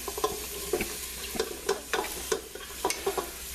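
A big batch of vegetables sweats in a pan for chicken with white beans. A soft sizzle runs underneath while a spoon scrapes and stirs in a steady rhythm of short, fairly close strokes.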